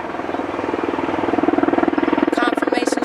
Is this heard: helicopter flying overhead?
yes